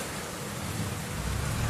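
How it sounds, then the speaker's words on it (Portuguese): Steady rain falling in a home setting, a dense, even hiss filling the whole stretch at a moderate level with a slight swell toward the end, no voices. "Chuva, chuva, chuva."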